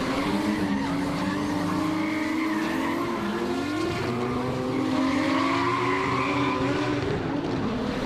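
Drift cars battle around Taupo Motorsport Park, engines wailing and rising and falling while tires squeal and skid continuously, loud and fairly close, with no voices over the noise.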